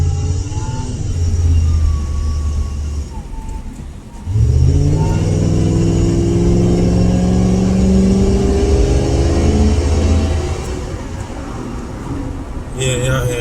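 A Crown Victoria engine revs up with a throaty exhaust note, rising sharply after a brief dip and holding a loud, steady drone near the microphone before settling.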